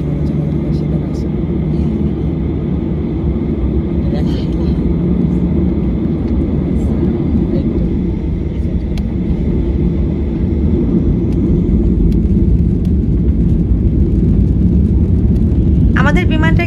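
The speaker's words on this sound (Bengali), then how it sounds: "আমাদের বিমানটা কিন্তু রানওয়ে চলে এসেছে আর এখন বিমানের গতি কিন্তু অনেক বেড়ে গেছে" A passenger airplane accelerating down the runway on a flight from Dhaka to Cox's Bazar gives a loud, steady low cabin rumble and roar, with a voice talking over it.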